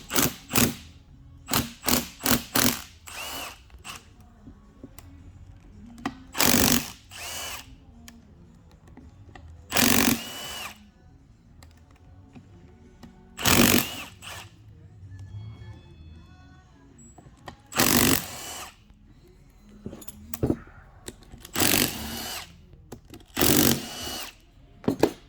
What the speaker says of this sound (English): So I'm going to carefully hit them with this little impact.